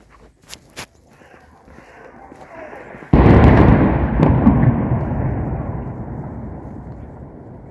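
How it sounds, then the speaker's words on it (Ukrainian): A mortar shell explodes during shelling in Kherson, a sudden loud boom that rolls into a long fading rumble, preceded by faint thumps and background noise. "Ось, увага, летить міна."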